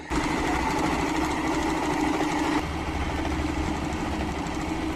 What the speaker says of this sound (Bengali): এন মেশিন দিয়ে যে ডিজাইন মারতাছে